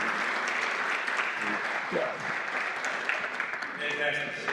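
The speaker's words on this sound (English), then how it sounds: "let's give them a round of applause." Audience applause at a faith and culture discussion event, a steady broad wash of clapping sustained throughout, with a few voices audible beneath it.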